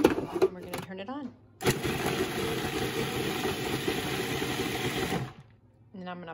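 Food processor ricing cauliflower, starting with a loud whirring roar that runs steadily for about four seconds and then stops, with a person talking briefly before and after it.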